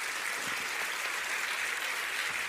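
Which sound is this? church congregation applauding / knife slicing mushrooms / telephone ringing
church congregation applauding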